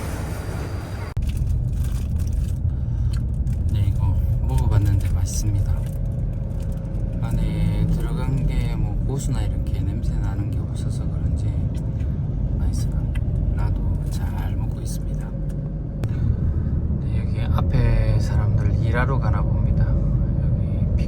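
Steady low road rumble and wind while riding in the back of a pickup truck with equipment in Laos, with a voice talking over the noise throughout.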